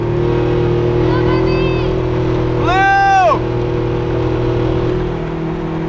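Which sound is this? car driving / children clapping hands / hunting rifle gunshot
car driving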